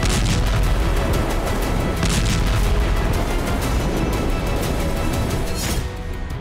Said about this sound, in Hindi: हिजबुल्लाह हर दिन रॉकेट से तबाही मचा रहा है